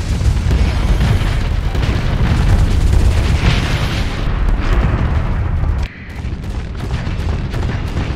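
Spaceship weapons blasting in the space combat game Starsector, with dense, continuous booms and bursts of fire rumbling throughout, a brief lull near the end before the barrage resumes.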